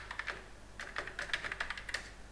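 Steady run of keystrokes on a computer keyboard while entering SQL Loader control-file text, quick irregular clicks close to the microphone with no voices.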